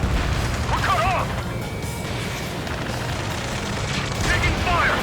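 Gunfire and explosions from the combat flight game Ace Combat 7 during a rescue mission, a dense, loud barrage of crashing bursts and pops running throughout, with radio voices talking over it.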